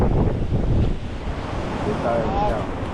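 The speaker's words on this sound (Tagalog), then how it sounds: "malakas na naman ang ating karagatan" Rough sea at the shore with strong wind buffeting the microphone, a loud, steady roar of surf and gusts with a faint tonal whine near the end.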